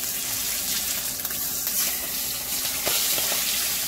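Golden pompano fish frying in a pan with ghee and masala, a steady close hiss and sizzle with a few soft clicks of the pan and turner, no voices.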